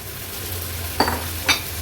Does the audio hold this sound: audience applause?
no